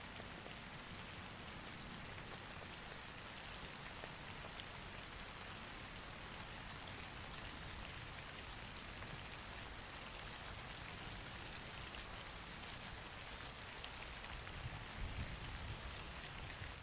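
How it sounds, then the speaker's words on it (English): Steady rain falls without a break in the video game My Work Is Not Yet Done, a dense broadband hiss of drops on surfaces with no voices, holding at an even level throughout. "Oh, the rain stopped."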